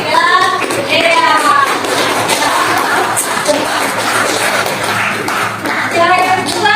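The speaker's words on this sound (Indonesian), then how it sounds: "mari tepuk tangan buat Afiq dan Dea" A classroom of high school students claps for two classmates in a burst of applause. A voice talks before and after it.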